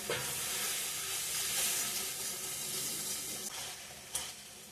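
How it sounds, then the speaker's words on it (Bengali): Ground turmeric, cumin, coriander and chili powder frying in oil in a pan, a steady close sizzle with a couple of faint clinks of a spoon near the end. "ভালো করে কষিয়ে নিয়েছি তেল ছেড়ে দিয়েছে"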